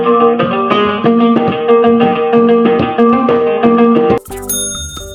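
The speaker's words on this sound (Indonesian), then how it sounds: "Japen adalah alat musik petik tradisional khas Kalimantan Tengah yang berasal dari suku Dayak." A Dayak japen, a traditional plucked lute from Central Kalimantan, plays a steady, busy melody of bright plucked notes in a loud passage that breaks off near the end, followed by a short ringing chime.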